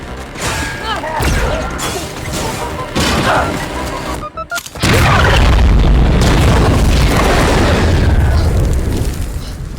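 A loud, rumbling blast erupts midway through a noisy, chaotic scene, followed by sustained roaring debris and crackling.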